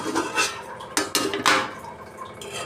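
A lid set onto a cooking pot of simmering ivy gourd curry on the stove, with several short metallic clinks and clatters close by, no talk.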